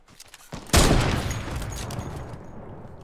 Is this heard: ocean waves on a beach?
no